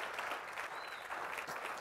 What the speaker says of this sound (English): Can we get a round of applause for 3D tracking?